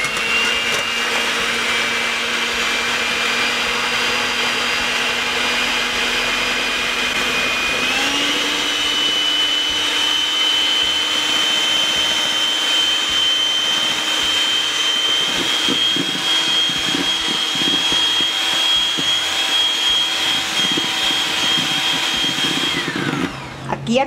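An electric hand mixer whirs steadily and loudly as it whips seven egg whites to stiff peaks for Salvadoran torrejas, its motor pitch stepping up partway through and holding a sustained whine.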